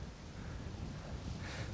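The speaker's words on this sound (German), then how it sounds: "Warum ist das auch so windig?" Wind gusting steadily across a freshly dethatched and scalped lawn outdoors, a continuous broadband rush with low rumble, fairly loud and unbroken for the whole stretch, with no speech.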